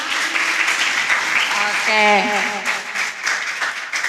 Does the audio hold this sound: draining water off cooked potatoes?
no